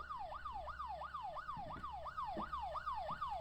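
A police siren arriving in the horror game Fears to Fathom Home Alone wails in quick, rhythmic rising-and-falling sweeps, fairly faint and distant, with a few soft thumps underneath.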